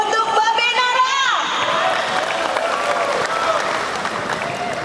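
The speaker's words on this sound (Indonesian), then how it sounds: "Mari Tepuk kita tangan yang meriah yang meriah." A crowd at a Halal Bi Halal and anniversary gathering applauds loudly and continuously, with cheering, while an announcer's voice rings over the clapping.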